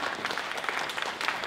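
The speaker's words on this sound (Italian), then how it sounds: "Un grande applauso, e guadagna il centro della sala." Applause at a lifetime achievement award ceremony as an honoree walks to the center of the hall: a brief, steady patter of many hands clapping at moderate volume, lasting about a second and a half.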